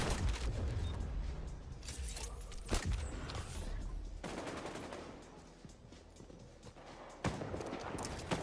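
Shotgun fire in the online shooter XDefiant comes as heavy, booming blasts layered over dense game noise, with a few sharp reports standing out against the constant din.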